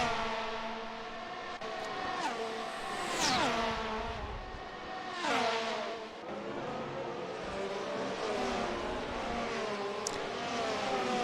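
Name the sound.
race cars revving in a racing video game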